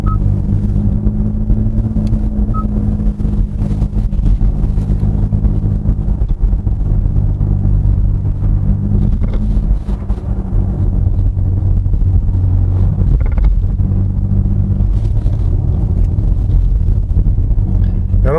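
Inside a 2022 Genesis GV60 Performance AWD electric car, a synthetic virtual driving tone hums continuously while the car accelerates, layered over steady low road rumble at a constant loud level throughout.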